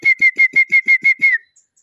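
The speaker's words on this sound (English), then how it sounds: "You can hear whistling from every part of the corner." Wild birds in a jungle setting give a rapid series of about eight clear, loud whistled notes in a steady rhythm, close by, then stop.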